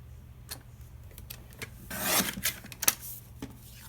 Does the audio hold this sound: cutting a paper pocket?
yes